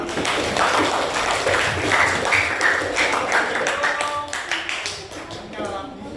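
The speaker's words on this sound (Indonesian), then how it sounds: "Tepuk tangan buat kita semua." Students in a classroom clap together at the end of a lesson, a dense burst of hand claps that thins into a few scattered claps and fades out.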